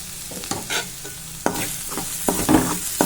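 Egg masala with turmeric being stirred in a hot frying pan: irregular, close spatula scrapes and knocks over a steady sizzle, loud and clear with no voices.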